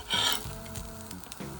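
Rava dosa batter sizzling on a hot cast iron tawa, a sharp loud hiss as it hits the pan settling into a softer crackle with a few scraping stirs, close by, without speech.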